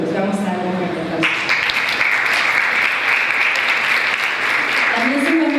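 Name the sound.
applause from an audience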